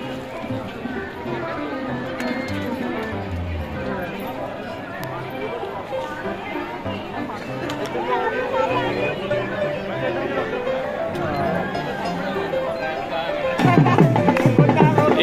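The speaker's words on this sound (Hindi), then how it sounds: "बहुत ज़्यादा अंदरली साइड तक भीड़ है" Dense crowd chatter fills a busy Saras Mela fair in Sangrur, a steady babble of many voices close around, swelling louder near the end.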